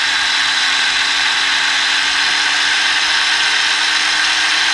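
The motor of a Haiboxing 168889 1/16 RC monster truck whines at high speed, a loud, steady, close buzz that holds without a break.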